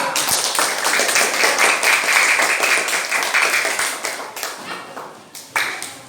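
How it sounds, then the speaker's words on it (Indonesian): A class of students applauds a presenting group after their presentation, dense continuous clapping filling the room loudly from start to finish with a brief dip near the end. "Beri tepuk tangan kelompok lembaga keluarga"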